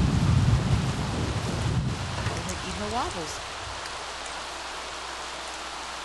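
Rain and rumbling thunder in The Sims 3 swell loudly at first, then ease into a softer steady patter while a person talks over it.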